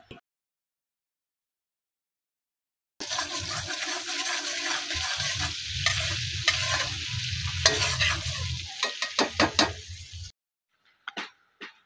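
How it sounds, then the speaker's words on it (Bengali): Cinnamon and cloves frying in melted butter in a pan, a steady close crackling sizzle that starts abruptly after silence, runs for several seconds with a few sharp pops near the end, then cuts off. "বাটারটা গলে গেলে সেই বাটারের মধ্যে একটু দারচিনি আর লবঙ্গ ফোড়ন দিতে হবে।"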